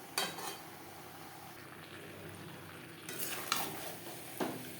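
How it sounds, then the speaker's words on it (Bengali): Vegetables and spices are stirred in a cooking pan for a vegetarian potato dish, giving soft scraping and clinks of a spoon against metal, with a couple of sharper knocks toward the end. "মশলার সাথে সবজি বেশ ভালো করে মিক্সড করে দেবো"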